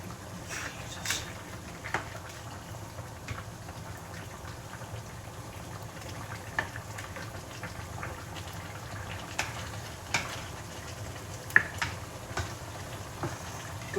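Quiet, steady sizzling and crackling with scattered small pops, like food frying in a pan, with no voices.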